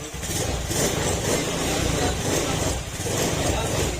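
A motorcycle engine that had refused to start now runs steadily at idle, a close continuous low rumble with a faint rhythmic pulse throughout.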